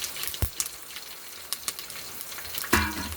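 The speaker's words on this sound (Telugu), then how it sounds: "కరివేపాకు వేసుకునేటప్పుడు జాగ్రత్త నూనె చిల్లి మీద పడుతుంది" Curry leaves dropped into hot oil in a home kitchen, crackling and sizzling with sharp pops scattered across a few seconds and a loud spluttering burst near the end.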